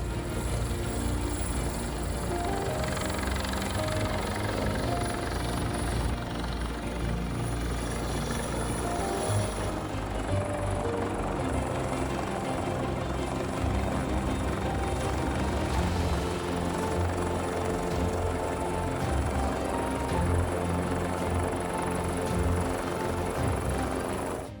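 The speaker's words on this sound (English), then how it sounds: "Helicopters were deployed to the volcano to survey the severity of the situation" A helicopter flies over an erupting volcano in the snow-capped mountains of Iceland, its rotor throb a steady, dense drone that holds at moderate loudness without a break throughout.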